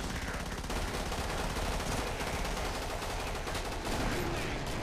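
Dense, continuous automatic gunfire in the video game Killing Floor, loud rapid shots blending into a steady roar throughout.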